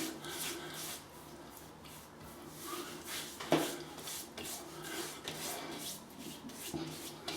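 Hands rub pre-shave oil into the skin of the face before a wet shave, giving a faint, continuous soft swishing with gentle, irregular strokes up close.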